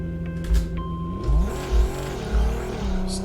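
A '93 Ford Mustang engine in the Racing Rivals racing game revs hard in repeated surges, climbing toward 7k and dropping at each shift, about four pulses in quick succession, close and loud with no talking.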